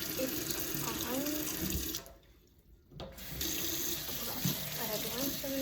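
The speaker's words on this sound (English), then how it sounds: "I had to rinse everything." Tap water runs steadily into a sink while lunch food and containers are rinsed, a loud continuous splashing that stops briefly for about a second before resuming, with faint talk underneath.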